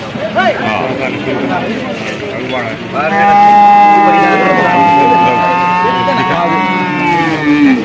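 A female buffalo at the Vaniyamkulam livestock market gives a long, loud, low moo that carries for several seconds, after people talk nearby over the general market noise.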